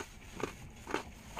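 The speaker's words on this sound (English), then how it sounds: "I finally got all those taters chewed up." Two crunchy bites of sweet potato, close and distinct about half a second apart, over steady background hiss.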